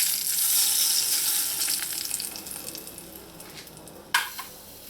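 Hot oil poured over baigan choka, a mashed roasted eggplant dish, sets off a loud broadband sizzle that slowly fades, then a sharp brief crackle near the end, with no talking.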